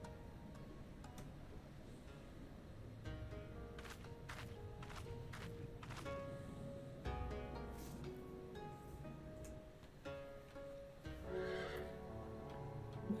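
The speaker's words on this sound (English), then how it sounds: "My horse." A horse whinnies within the game world of Final Fantasy XIV, heard as several rising neighs over a steady bed of background music and ambience, fairly clear and moderately loud.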